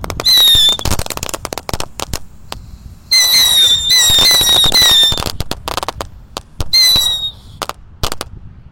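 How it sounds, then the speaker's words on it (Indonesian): A pack of tikusan pretek firecrackers goes off in sharp, rapid crackling bursts, three loud volleys with shrill whistling squeals between scattered pops, close by and alone without talk. "ada mercon tikusan pretek guys. Kita nyalakan 1 pak ini."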